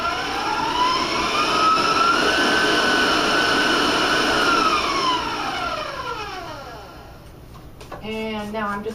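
An electric mixer beats cupcake batter at a raised speed, a loud steady whirring hum whose pitch swells and then eases before it shuts off, followed by a short burst of a voice.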